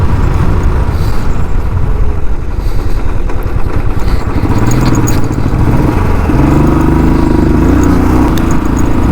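A Royal Enfield Classic 350 BS6 motorcycle being ridden, its loud, steady single-cylinder thump rumbling continuously up close under wind rush, with the engine note rising slightly partway through.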